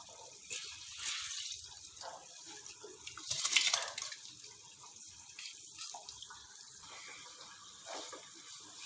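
Water in a cooking pot coming to a boil for vegetable pulao gives a steady, moderately loud bubbling hiss with a brief louder surge midway, heard alone with no voices.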